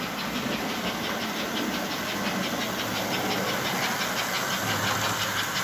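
A model S engine 4-4-4 locomotive running under load on a test track, a continuous close mechanical whir with a fast, even rhythmic chatter and steady hum, without any voices.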